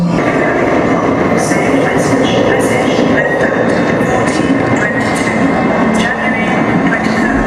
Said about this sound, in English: I'm on a train from Chennai to Coca-Cola.